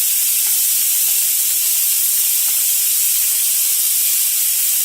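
Onions frying in a pan over a medium flame, a steady, loud, unbroken sizzling hiss that holds evenly throughout with no pauses.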